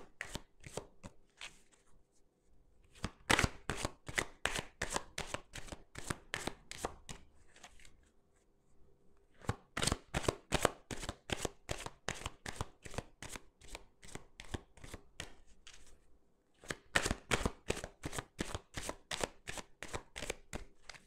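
Lenormand cards being shuffled by hand in repeated bursts of quick, crisp riffling clicks, with brief pauses between rounds, close and fairly quiet with no talking.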